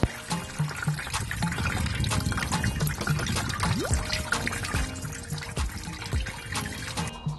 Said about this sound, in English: after taking out the hose, the coolant has started coming